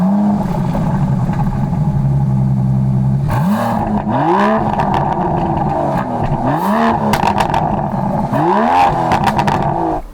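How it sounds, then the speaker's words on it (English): Aston Martin DBS Superleggera V12 exhaust revving hard, several loud, close blips climbing and falling in pitch over a steady idle, with crackling pops between revs. "Aston Martin has always managed to make the exhaust sound so superbly good."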